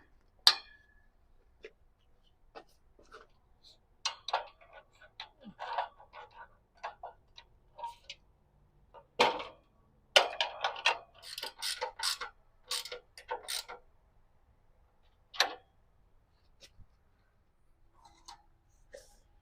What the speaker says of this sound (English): let's just get that tightened up with the wrench